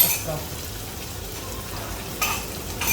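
Chicken cooking in a pot for chicken tehari, with sour yogurt added: a steady soft sizzle and frying hiss throughout, with a brief louder spatter near the end.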